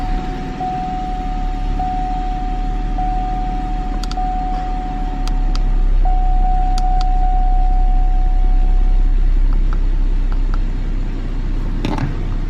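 A Cadillac STS engine, flagged with a camshaft position actuator circuit fault, idles steadily after starting, a continuous low hum with a faint whine and occasional light clicks nearby.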